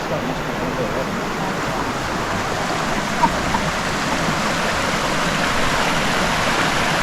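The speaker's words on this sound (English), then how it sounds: "we're just sitting by this beautiful little creek" Little creek near Florence Falls in Litchfield National Park, water flowing as a steady broadband rush that holds even and close throughout, with no voices over it.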